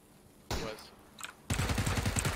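Gunshots in PUBG: a short burst of automatic fire, a brief pause, then a longer, louder rapid volley with evenly spaced shots.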